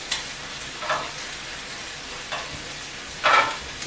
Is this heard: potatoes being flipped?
yes